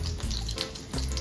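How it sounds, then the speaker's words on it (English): Salmon cakes fry in hot oil in a pan, giving a steady, close hiss and crackle with brief louder bursts of sizzle, no voices. "Alright, so it's frying."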